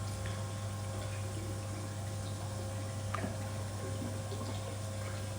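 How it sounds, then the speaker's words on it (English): Water siphoning through an aquarium gravel vacuum in a large oscar breeding tank, a steady low hum with faint trickling and a few soft drips throughout, no talk. "how good it is to use a gravel vacuum"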